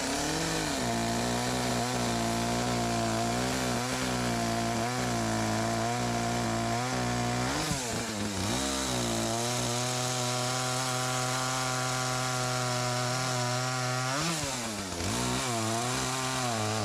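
A chainsaw drones continuously up close while taking down birch trees, its engine pitch dipping and rising as it bogs into cuts around the middle and later, loud and unbroken with no voices.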